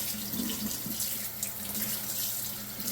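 A steel backhaul towel clamp rinsed under a running kitchen tap, a steady close splashing rush of water that runs unbroken throughout.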